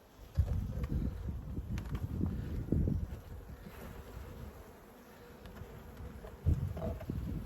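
Honey bees buzz steadily around a hive, a close, dense drone with some wind rumble and occasional handling knocks.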